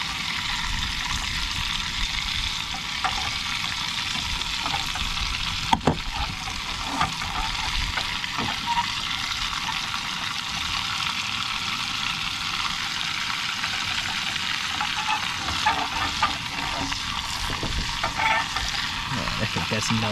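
Butter melting and sizzling in a pan at a tent campsite, a steady close frying hiss that runs unbroken, with a faint click or tap partway through.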